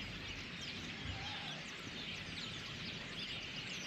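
Birds call and chirp outdoors at a wild animal sanctuary, scattered sharp calls over a steady wash of wind-like background noise, with no talking.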